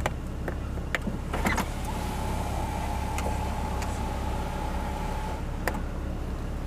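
Electric sunroof motor opening on a Volkswagen Golf GTI Mk3, a steady mechanical whir lasting several seconds inside the cabin with a few clicks and knocks, heard alone over low interior hum.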